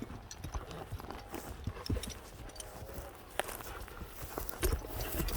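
A horse is led around a field, its hooves clip-clopping in an uneven walking rhythm at moderate distance, with a few sharper hoof strikes over faint background noise.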